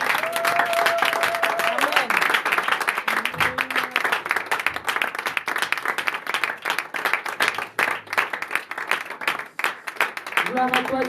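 A church congregation in Bordeaux applauds the Lord during a French-language worship service, sustained dense clapping and crowd cheering throughout, with a voice speaking and singing over it.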